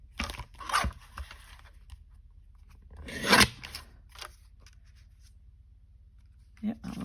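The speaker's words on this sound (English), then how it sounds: "and then I'm going to trim some off again." Scissors snip through craft card in a few short crisp cuts, with a louder stretch of cutting in the middle and quiet rustling between them.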